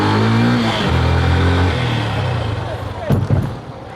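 A car engine revs and pulls up a ramp toward second-floor parking, loud and close for most of the stretch, with people talking over it.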